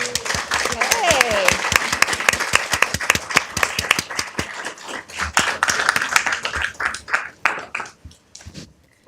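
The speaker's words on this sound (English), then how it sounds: "Let's give them a round of applause." Applause for Girl Scout Troop 2715 at a city council meeting in Downey, a burst of dense clapping from a room full of people that thins into scattered claps and fades out, with some voices mixed in.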